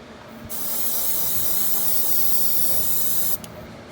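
A steady, close hiss of spray paint bursts out for about three seconds, then cuts off abruptly, with a short puff afterward.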